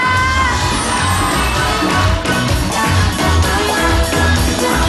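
At an event in the Philippines, a large crowd cheers and shouts continuously over loud, pulsing music, with whoops and yells rising throughout.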